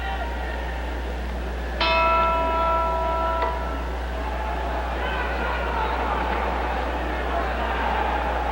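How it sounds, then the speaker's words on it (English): Boxing ring bell sounding for round two at a 1955 heavyweight fight: a single clear, ringing bell strike that rings out for over a second, heard over a steady crowd murmur and broadcast hum. "looking into the corner of Bob Satterfield as he waits for the bell."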